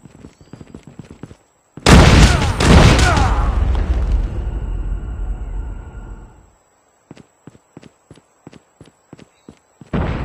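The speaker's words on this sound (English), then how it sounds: "Flashbang!" A flashbang grenade in Call of Duty Mobile goes off with a sudden loud blast that roars and rumbles for several seconds, followed by scattered sharp clicks and taps.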